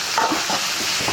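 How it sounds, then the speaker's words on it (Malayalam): Onion, green chili, ginger and garlic are stirred in a hot pan, giving a brief soft sizzle with scraping strokes and no voices. "എല്ലാം കൂടി ഇട്ടിട്ട് ഇതൊന്ന് ഇളക്കി കൊടുക്കാം."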